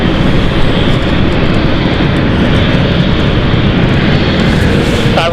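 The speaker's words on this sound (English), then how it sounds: "Let's watch the Dusseldorf flight here taking off." A passenger jet departing London City Airport on a Dusseldorf flight, a loud continuous roar of engines at full takeoff power, dense and steady throughout.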